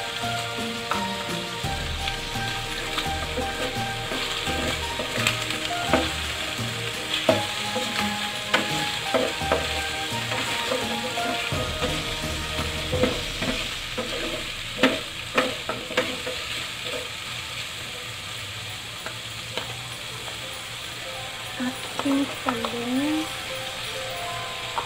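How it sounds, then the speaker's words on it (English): Vegetables including okra sizzle and are stirred in a hot pan while sautéing for a pork monggo soup, a steady frying hiss broken by scraping spatula strokes, with a person talking over it. "igisa na rin natin guys yung ating mga gulay"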